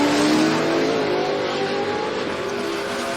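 Corvette and Camaro drag racing at a strip, a loud continuous engine roar passing nearby with a rising, accelerating tone over about three seconds.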